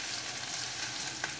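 Okra pulusu, a tangy Andhra okra stew, being stirred in a frying pan, giving a steady close sizzle with soft scraping and one brief clink near the end, with no talking.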